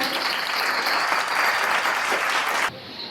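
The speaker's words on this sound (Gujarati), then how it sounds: "તાળી પાડવામાં જીએસટી નથી લાગતો, એટલે તાળી પાડવામાં અટકાતા નહીં" An audience at an award ceremony for student achievers in Surendranagar claps in sustained, dense applause, fairly loud and even, before it cuts off near the end.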